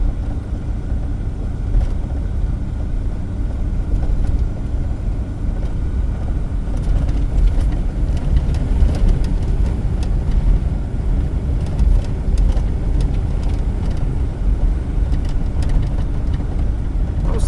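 A car cruises steadily along a smooth paved back road through pinyon-juniper country near Payson, Arizona, with a constant low engine and road hum throughout and no talking.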